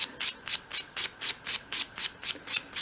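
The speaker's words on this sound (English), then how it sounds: "I'm using a piece of 500 grade sandpaper to tidy that up, and you probably don't want to go any stronger than that with balsa." Soft balsa wood is sanded by hand with 500 grade sandpaper in a steady run of about a dozen short, even back-and-forth strokes, close and clear.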